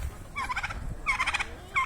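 A turkey gobbles in rapid warbling bursts, two clear calls and the start of a third, close by over a low background rumble, at a cockfight.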